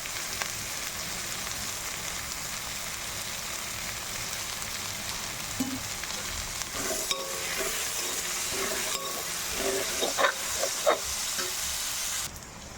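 Onions and curry leaves fry in a pan for a Kerala-style prawn roast, giving a steady, close sizzle throughout, with stirring scrapes and small crackles rising toward the end.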